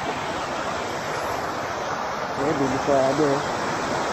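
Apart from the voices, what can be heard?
strong rushing floodwater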